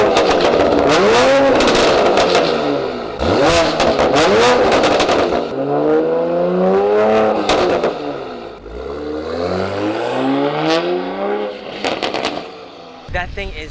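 A 2020 Toyota Supra fitted with an AWE exhaust revs hard several times, loud close blips with rising and falling pitch, crackling pops between pulls and a long falling rev-down near the end.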